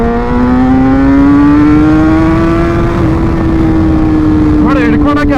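A Mahindra Thar fitted with a Rapid Bike Evo module accelerates hard, its engine note rising steadily and loud in one long sustained pull up close.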